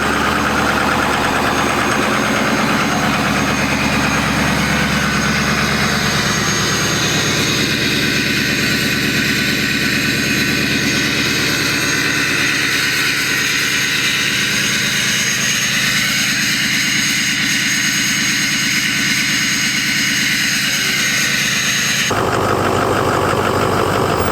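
A loud 6.0 Powerstroke diesel pickup truck engine roars steadily with a jet-like whine, holding high revs for a long stretch before cutting to a lower idle near the end.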